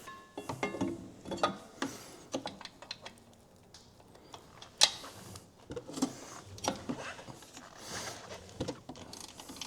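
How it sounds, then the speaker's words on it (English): A wrench tightens a Polaris P22 clutch bolt to 107 foot-pounds, giving off scattered sharp ratcheting clicks and metallic taps at close range, with quieter gaps between bursts and no talking. "Set a wrench at 107, and we'll torque it."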